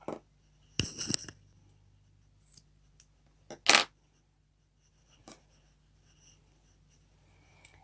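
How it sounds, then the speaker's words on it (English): Scissors snip through crochet yarn in a quiet room, a few sharp close cuts and soft rustles scattered across a mostly silent stretch, with no talking. "we're going to cut the yarn"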